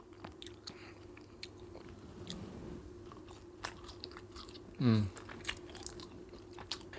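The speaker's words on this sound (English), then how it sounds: "next I'm going to try the fries" Someone eats fries with barbecue sauce, with soft close bites and chewing throughout and one louder crunchy burst partway through.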